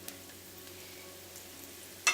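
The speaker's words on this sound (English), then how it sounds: "Add chopped ginger and garlic to the hot oil." Chopped ginger and garlic sizzle in hot oil in a heated wok, a steady, quiet hiss that runs throughout, with a soft knock right at the end.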